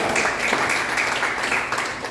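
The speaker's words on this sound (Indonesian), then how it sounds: "beri tepuk tangan bagi Tuhan." Church congregation clapping together during a sermon, a brief dense wash of applause at moderate level with no voices over it.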